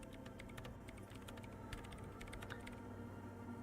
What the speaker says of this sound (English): She's behind the keyboard now, typing in some numbers that only she understands.